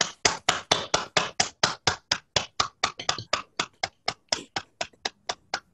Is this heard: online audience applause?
yes